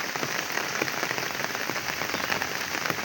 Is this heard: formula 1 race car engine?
no